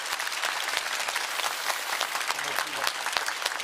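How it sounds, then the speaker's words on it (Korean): An audience at a public deliberation assembly applauds continuously to welcome the National Assembly speaker, a dense, steady wash of clapping from many hands at moderate distance. "박수로 환영하겠습니다."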